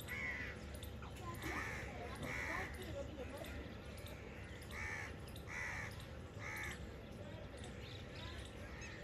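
Crows feeding on scattered millet caw again and again in loose bursts at a moderate distance, over steady outdoor background noise and some indistinct voices.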